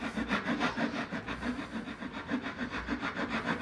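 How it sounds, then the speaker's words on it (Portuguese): A wood rasp files back and forth along a wooden box near its hinge, making a steady rhythm of coarse scraping strokes, close and continuous, with no talking. "Passar a grosa desse lado, nessa outra parte, dessa outra dobradiça."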